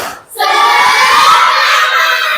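A group at an academic coaching supervision session bursts into a loud, unison 'tepuk semangat' spirit cheer, voices shouting together close and strong after a brief pause.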